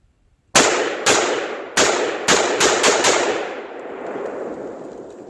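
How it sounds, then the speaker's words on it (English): A rapid string of sharp rifle shots from an AR rifle, about seven loud cracks in quick irregular bursts, each ringing off with metallic reverberation that lingers after the final shot. "let me fire a bunch of shots for you."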